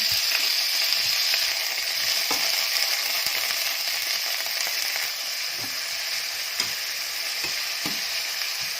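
Vegetables frying in hot spattering oil, a steady loud sizzle with scattered sharp pops and crackles throughout, no voices.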